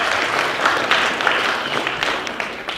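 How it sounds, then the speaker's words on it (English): A training-event audience applauding themselves: a dense, even wash of many hands clapping at moderate loudness, with a few sharper claps standing out toward the end. "So, give yourself a clap."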